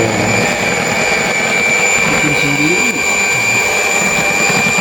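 An electric stand mixer runs loud and steady for the whole stretch, its motor giving a constant whirring drone close by, with faint voices now and then underneath.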